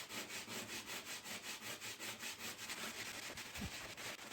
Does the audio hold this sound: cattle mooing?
no